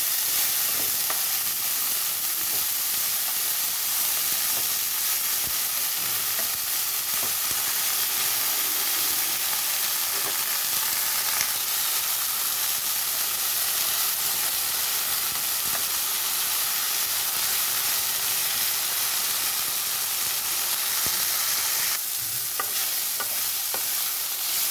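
Eggplant and drumstick flowers frying in a pan, a loud steady sizzle and hiss of hot oil continuing throughout, with occasional light stirring scrapes.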